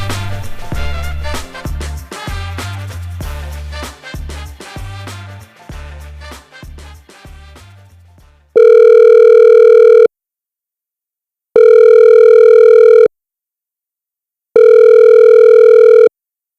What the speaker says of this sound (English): Let's listen in on this week's most recent phone call of differences.